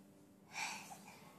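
A young child sneezes once, a short close burst of breath lasting under a second in a quiet room, with no talking.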